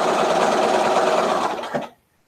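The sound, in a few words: sewing machine stitching a quilt block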